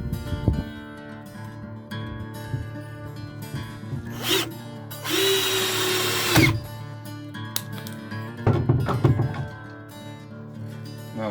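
A power drill drives screws into a wooden champagne display cart, giving one whirring burst of about a second and a half amid close handling knocks and rubbing.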